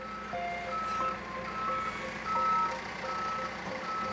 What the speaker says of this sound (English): the fire truck can manoeuvre into position.